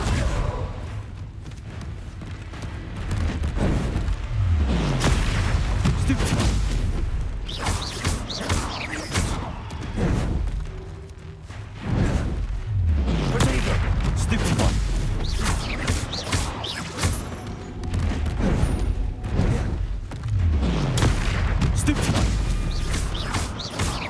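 Spell explosions from Bombarda and Confringo go off during combat in the Hogwarts Legacy video game, repeated booms and crashes with clanking game effects, mixed under a player talking throughout.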